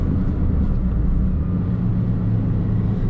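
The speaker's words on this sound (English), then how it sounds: "First, the regular downshift. I'll be going from third to second, and I'm going about 50 kilometers an hour." A car downshifting from third to second gear at about 50 km/h without rev matching, a steady loud engine and road drone filling the moment with a slight lurch in tone.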